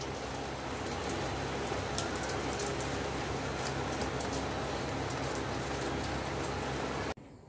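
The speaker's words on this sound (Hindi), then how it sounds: "और बहुत तेज बारिश चालू हो गया।" Heavy rain pours steadily for several seconds, a dense continuous hiss with scattered drops pattering on nearby surfaces, then cuts off abruptly.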